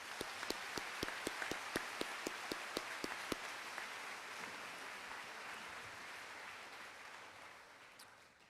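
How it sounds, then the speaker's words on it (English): Audience at a school class completion ceremony applauding its speakers: a few sharp, distinct claps at first, then a dense roomful of steady clapping that slowly fades out. "So one more round of applause for our speakers."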